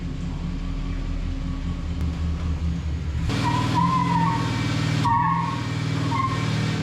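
A car nicknamed Lionheart, fitted with Sure Grip tires, trying to break its tires loose on a wet road while the brake is slipped: a steady engine roar that swells after a few seconds, with brief tire squeal over the top.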